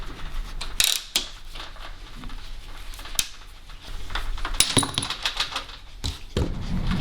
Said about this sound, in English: This is just a ratcheting pipe cutter I've got here.